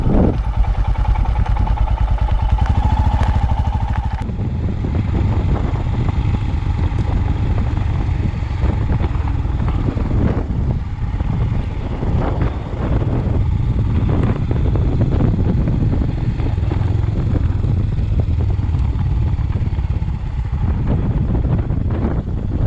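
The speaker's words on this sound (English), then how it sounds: "So it is quite windy still" Wind gusts buffet the microphone outdoors at a cemetery in Elaine, Victoria, Australia, a loud continuous rumbling roar that swells and eases over about twenty seconds with no voices.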